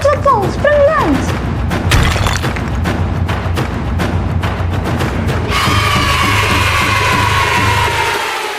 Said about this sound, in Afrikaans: Daar's 'n rots wat val